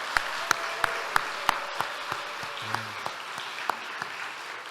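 A church congregation at a Sunday youth service claps for preschool and kindergarten children and their teachers: crisp, evenly spaced claps in a steady rhythm over a soft room hum, fairly quiet overall.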